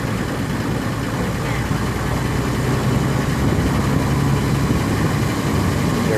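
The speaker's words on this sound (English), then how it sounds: "I don't know how old these buses are" Old buses idle in Sakon Nakhon, Thailand, a steady low diesel rumble with street noise and some voices mixed underneath.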